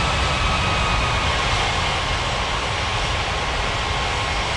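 A jet airliner taxiing in the Unmatched Air Traffic Control video game, a continuous loud engine roar with a faint steady whine, unchanging throughout and heard alone.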